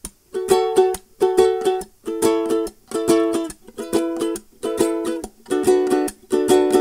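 A ukulele strummed in a quick, steady repeating down, up, down, up pattern, bright and close, cycling through several chords.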